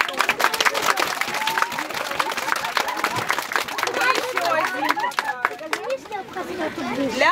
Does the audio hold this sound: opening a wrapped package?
no